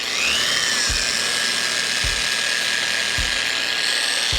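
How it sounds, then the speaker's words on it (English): A long-throw random orbit polisher runs steadily up close with a loud, even whir and high motor whine, its low wobble pulsing in a regular beat about once a second. "random orbit polisher for a long time, and long throw is where it's at"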